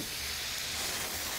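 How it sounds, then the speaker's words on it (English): Saganaki, Greek fried cheese served sizzling hot at a Greek restaurant, gives off a steady, loud, hissing sizzle with no talk over it. "Wow, it's like Greek fajitas, sizzling."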